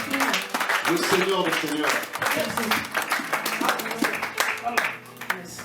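A youth convention audience at a church gathering in Aalst, Belgium, claps and cheers loudly in a dense, continuous burst while a voice speaks over the crowd near the end.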